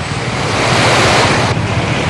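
Strong rushing floodwater current through a flooded village street, a loud, continuous broadband roar of surging water with wind-like noise, close and unbroken, no voices.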